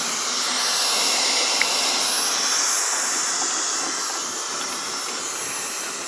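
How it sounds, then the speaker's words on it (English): Steady, continuous whooshing of a hair dryer blowing nearby, an even airy roar that holds constant for several seconds. "It's a new hair dryer."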